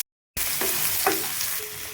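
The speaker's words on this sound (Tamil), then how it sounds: "நறுக்கின வெங்காயம் சேர்த்துக்கோங்க." Chopped onion goes into a hot pan already frying chopped ginger for a prawn thokku gravy. After a brief silence, a loud, close sizzle starts abruptly and keeps hissing steadily, with a few crackles.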